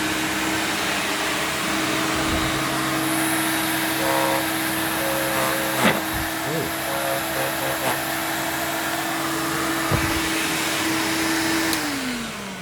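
An Electrolux Twin Turbo 2 Super Z1070A bagged upright vacuum cleaner runs with a blockage, giving a steady droning motor whine with a few brief knocks and bumps before the tone drops as it begins to wind down near the end.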